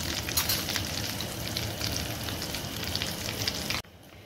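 Potato chicken cheese cutlets frying in a pan of oil, a loud, dense sizzle that crackles steadily for nearly four seconds before abruptly dropping to a quieter hiss.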